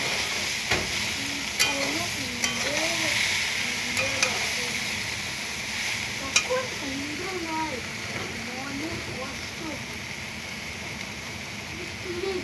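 Raw soybean chunks tipped into a hot pan give a steady, close sizzle with frying crackle and scattered stirring clinks, while a voice talks over it now and then.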